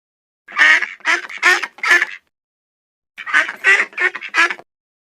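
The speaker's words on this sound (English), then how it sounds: "Duck." A duck quacks in two bursts of several harsh, nasal quacks each, loud and close, with a short silence between the groups and no talking.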